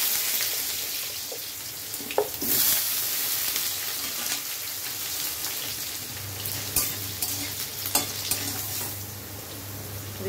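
Diced potatoes fry in hot oil with a bay leaf and a dried red chilli, a steady close sizzle with a few clinks and stirring scrapes, no voices.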